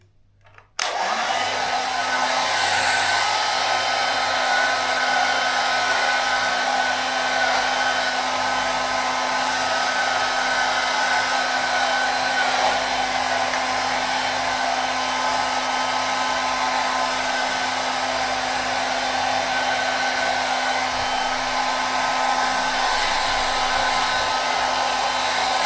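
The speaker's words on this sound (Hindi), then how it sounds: "ब्लो ड्रायर मार ली" A hair blow dryer switches on and runs continuously at close range, a steady loud whirring roar with a constant motor whine, alone without any voices for over twenty seconds.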